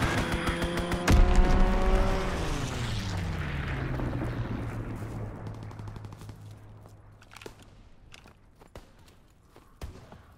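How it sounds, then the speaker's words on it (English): A loud bomb explosion in Call of Duty WWII booms close by amid rapid gunfire and a descending engine roar, then fades into a long rumble with scattered shots in the distance. "Enemy bomb incoming. Get to cover."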